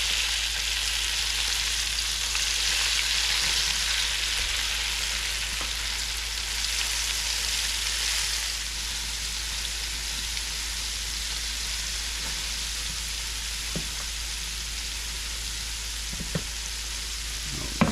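Okra fries in hot oil with a dense, even sizzle that hisses loudly and continuously, broken by a few light stirring knocks near the end.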